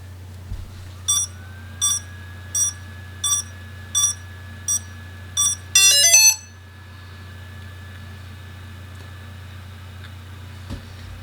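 Xiaomi Fimi X8 SE drone on a bench after a crash, powering on with eight evenly spaced short electronic beeps followed by a rapid descending-and-rising chirp sequence, close and clear over a low steady hum, then quiet.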